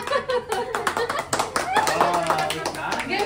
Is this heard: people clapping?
yes